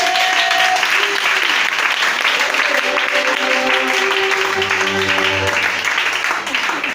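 Church congregation applauding in continuous, dense clapping that carries on for the whole stretch, with music tones and voices rising beneath it toward the end.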